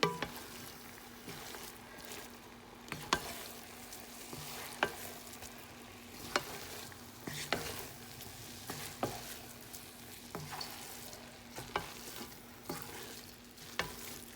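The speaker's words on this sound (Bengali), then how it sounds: "এখন আমি রাইসগুলা চিকেনের সাথে মিক্স করে দিচ্ছি" Rice being stirred and mixed into chicken curry gravy for chicken biriyani, with soft scraping and clinking of a spoon against the pot at a steady, repeated rhythm over a faint background hiss, no talking.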